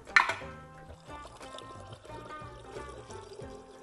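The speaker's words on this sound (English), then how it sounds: "I'm just going to pour the rice water." Rice water poured from a container, a short splash at the start followed by a trickle, nearly buried under steady background music.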